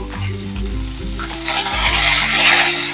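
Mourola fish sizzle in hot oil in a pan while being turned over, a close, loud frying hiss with a few scraping stirs at the start, and no talk.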